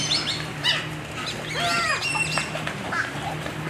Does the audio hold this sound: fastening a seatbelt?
no